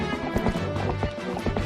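Horse hooves clip-clop in a quick steady rhythm while riding in a Zelda game, close and clear over a backdrop of music.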